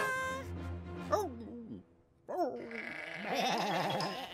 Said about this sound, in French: Des moutons en liberté